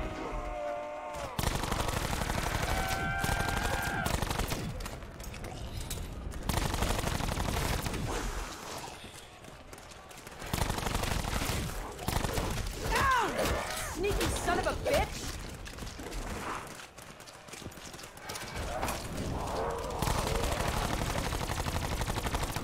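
Wraith Fire gun firing in Black Ops 4 Zombies, heard as repeated bursts of loud shots with pauses between them, mixed with other game noise and occasional talk.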